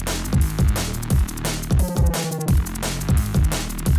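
A punchy drum and bass track with heavy kick drums, deep bass and a fast driving beat, pausing briefly for a melodic break before the rhythm returns.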